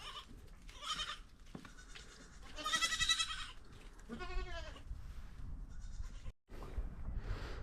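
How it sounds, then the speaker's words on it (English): Goats bleat repeatedly nearby, with wavering calls rising and falling over a rustling outdoor background. "Oh, the goats here"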